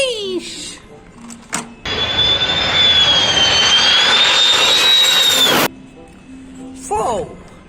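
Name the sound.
toy transformer plane jet engine sound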